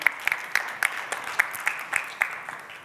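Scattered applause from a small room audience after a panel discussion on community-driven hotels and hybrid hospitality, sharp individual claps ringing out over a soft wash of clapping, fairly distant and light.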